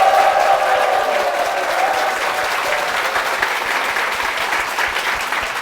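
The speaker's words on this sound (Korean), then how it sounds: "우리 담임 목사님과 교회를 위해서 다시 한번 큰 박수" Loud, sustained applause from a church congregation, dense steady clapping filling the whole stretch and slowly easing off toward the end.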